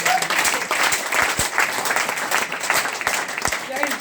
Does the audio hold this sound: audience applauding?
yes